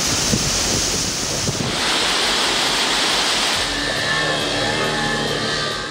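Torrential monsoon rain and floodwater roar in a steady, loud rush of churning water, with strong wind buffeting the microphone throughout.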